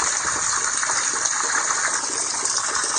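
A small flow of water trickles down a little swale beside a slide exposure in Alaskan boreal forest, a loud, continuous rushing wash, steady and close, with no voices.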